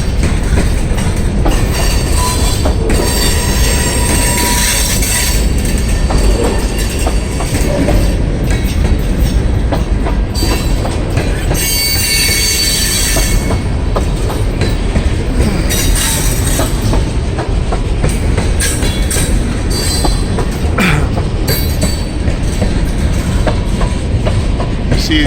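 A long freight train on the I&O line rumbles past up close in Midland, Ohio, steady clickety-clack of wheels over rail joints with occasional metallic squeals, continuous and loud throughout.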